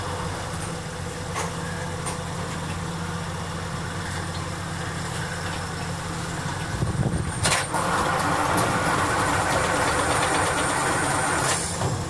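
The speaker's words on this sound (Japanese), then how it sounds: "はい、じゃあエンジンかけます。" A DMH17 eight-cylinder diesel railcar engine at a rail depot hums at a low steady idle, then a louder cranking burst kicks in and a rougher, fuller diesel rumble continues up close.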